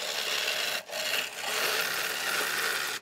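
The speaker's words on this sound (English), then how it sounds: "19 millimeter bowl gouge." A 19 mm Thompson bowl gouge cuts a mango wood dish on a lathe, a continuous loud hissing scrape with two short breaks where the tool lifts, heard up close with no talking.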